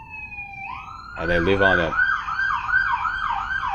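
Emergency vehicle siren wailing near a hospital on a busy main thoroughfare, a loud, close, repeating up-and-down tone with a brief voice speaking over it.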